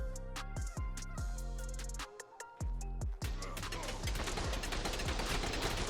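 Rapid gunfire from base turrets in the ARK survival video game, dense bursts of sharp repeated shots crowding together with a brief lull midway, loud and continuous with no talk.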